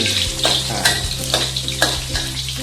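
Soaked and squeezed dried shiitake mushrooms frying in a pan, giving a steady loud sizzle with occasional scraping stirs and clinks of a utensil, close up and without talk.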